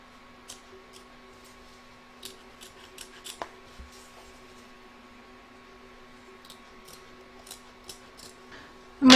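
Scissors trim fabric close to the satin stitch line of an embroidered square scalloped placemat freed from the hoop: quiet, close snips in irregular clusters over a faint steady hum, with a louder bump at the end.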